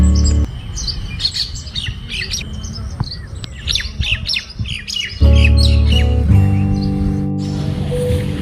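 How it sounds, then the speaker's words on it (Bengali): Birds chirp, tweet and squawk in a busy dawn chorus outside a hotel villa near the India–Bangladesh border, rapid calls layered over a steady low hum and background tones. "এই ভোরবেলা পাখিদের আওয়াজ আর এই যে নিরিবিলি একটা পরিবেশ এত সুন্দর লাগছে"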